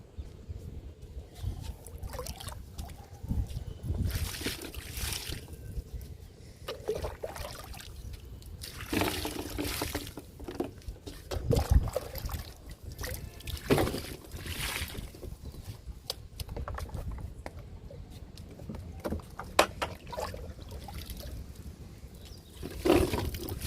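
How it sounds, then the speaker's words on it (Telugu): Water trickles and splashes steadily onto the soil and leaves of freshly fertilized bean and cluster bean plants, close by, with soft intermittent pouring surges and no talking. "చిక్కుడు మొక్కలకి గోరు చిక్కుళ్ళకి వాటర్ ఇద్దాము"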